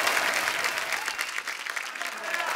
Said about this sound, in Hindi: सुगंधा के लिए जोरदार तालियां आ जाए यार